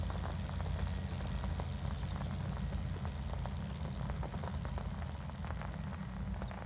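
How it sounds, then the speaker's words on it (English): Plane engine in the Outbound video game, a steady low droning hum with faint crackling texture, continuous and fairly quiet, with no talking. "The plane was the sound."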